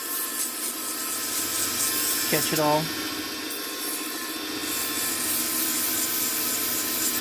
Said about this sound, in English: Now sanding this way, we're sanding against the grain